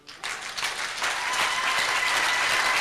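A church congregation bursts into sustained applause to acclaim God, many hands clapping together in a dense, steady roar that starts suddenly and holds without pause.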